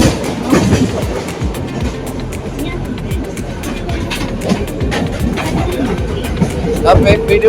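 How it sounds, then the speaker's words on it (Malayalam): Passenger train rolling along the rails on a journey after arriving in Delhi, giving a steady rumble with repeated clicking wheel beats throughout, while people talk nearby. "ഡൽഹി വന്നിട്ടുള്ള എൻ്റെ ഫസ്റ്റ് ട്രെയിൻ യാത്രയാണ്"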